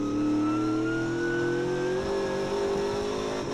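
A race car engine holds a loud, steady howl close by during a second race in traffic, its pitch rising slowly as it revs.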